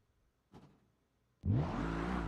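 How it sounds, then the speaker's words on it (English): After a faint thump, a video game drift car's engine suddenly roars up loud and keeps revving steadily with a buzzy, synthetic tone. "Oh, now we have car sounds."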